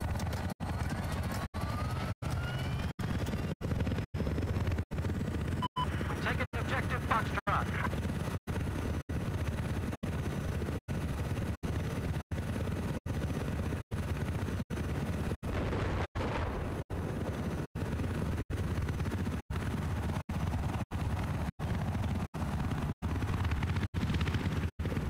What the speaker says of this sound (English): Take the helicopter out for a run.